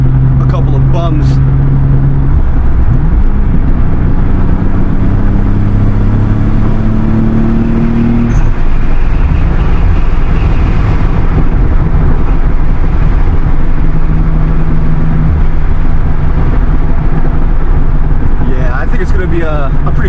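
Steady engine drone from the Z cruising in fifth gear on a wide open highway, loud and constant with some revving, while someone talks over it throughout.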